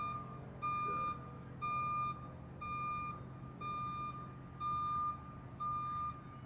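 A backing vehicle sounds its reversal alarm, six evenly spaced loud beeps repeating about once per second over low street rumble, with no talk.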